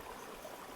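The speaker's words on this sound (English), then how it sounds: "there's a lovely little water source here" Small mountain stream near Kearsarge Pass in the Sierra, a steady, soft broadband rush of flowing water with a faint trickle, heard alone at low level.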